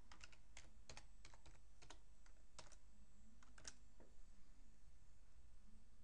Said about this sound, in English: You can type in your security key in the WPA pre-shared key section.